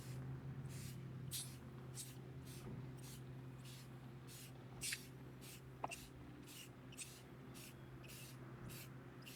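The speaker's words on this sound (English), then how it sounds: "So we're just going to spray that on." Repeated short hisses from a can of mirror-effect spray paint sprayed onto window glass, about two per second, faint and steady over a low hum.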